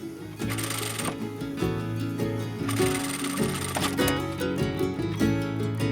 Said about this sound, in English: just sewing through the fabric.